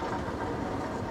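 A metro train at a Shenzhen station rumbles steadily, a continuous broadband roar of wheels and carriages with no voices over it.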